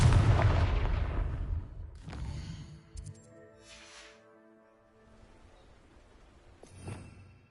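A Confringo spell blast in Hogwarts Legacy on PS5: one heavy booming explosion at the start, decaying over a couple of seconds, followed by faint crackles, tinkling effects and a soft thump later.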